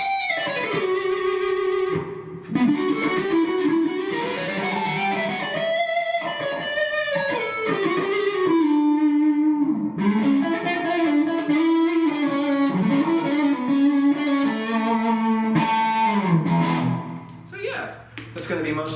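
A Big Lou Joker electric guitar plays through overdrive, loud sustained distorted chords and melodic lines with short pauses between phrases, ending in a ringing held note.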